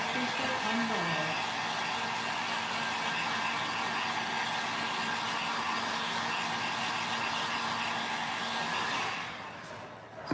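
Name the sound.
hair dryer drying watercolour paint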